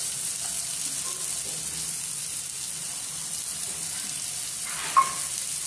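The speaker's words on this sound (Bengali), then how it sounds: "পেঁয়াজটাকে জাস্ট হালকা ভেজে নেওয়ার পরেই আমি এতে দিয়ে দেব রসুন" Chopped onions fry gently in a pan for a chicken korma, giving a continuous soft, even sizzle with a single faint utensil tap near the end.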